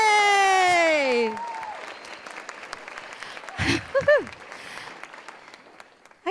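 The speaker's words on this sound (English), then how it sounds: "Give a round of applause to these amazing laureates" An audience applauds 2017 Indspire Youth Métis Inspire Award laureates: a bright voiced cheer opens, then scattered mid-level clapping continues, thinning and swelling with a few sharper bursts near the end.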